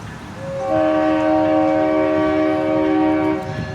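A loud train horn sounds one long sustained blast, with rumbling rail noise underneath as a long white train with a single engine passes close by on East Walnut Street.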